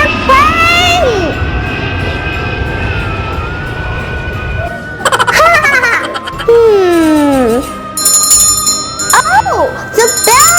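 A bell rings out in a children's cartoon, a bright, insistent ringing over whooshing effects, music and lively animated voices.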